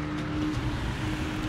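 A car drives by on a Los Angeles street, a brief, steady rumble of engine and tire noise at moderate distance with no talking.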